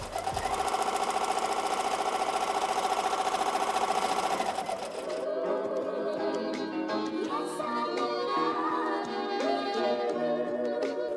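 An embroidery machine stitching a reusable face mask design, running steadily and loudly with a dense whirring, rapid needle rhythm, then shifting to a lighter, busier mechanical clatter partway through, with no talk.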